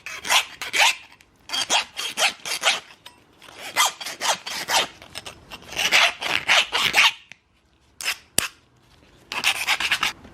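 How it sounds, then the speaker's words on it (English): Metal file rasping down a part on an AP1 Honda S2000, in repeated bursts of scraping strokes with short pauses between them, close and fairly loud. "all you gotta do is just file all that down"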